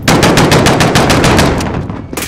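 Loud, rapid automatic gunfire in Call of Duty: Modern Warfare, a continuous burst of sharp close shots that runs about two seconds, then a final single crack after a short gap.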